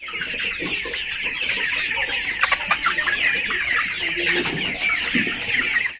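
Colour bird chickens on a poultry farm cluck and chatter steadily throughout, a dense flock noise close by with scattered sharper calls rising above it.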